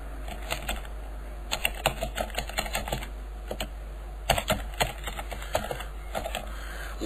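Rapid keystrokes on a computer keyboard while entering a user ID and password, in irregular bursts of close, crisp clicks over a steady low hum, with no talking.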